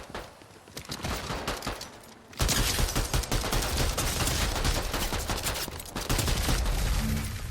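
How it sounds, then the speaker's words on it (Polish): Gunfire in the video game Fortnite, rapid bursts of automatic fire that start quietly then turn loud and continuous, sharp and close, with only brief gaps between volleys. "Ja strzelam."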